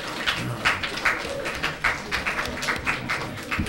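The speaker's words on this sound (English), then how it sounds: "I'm not sure you should be clapping for that one." Audience members at a city council meeting clap briefly in a room, scattered and uneven, with a few sharper bursts rising above a steady hum and no voices.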